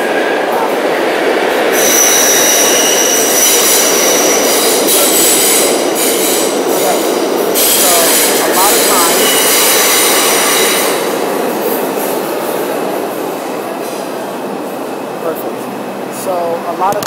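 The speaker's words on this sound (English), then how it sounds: "that train coming." A train passes close by on a street, a loud continuous rumble of rail cars with squealing wheels, slowly fading toward the end.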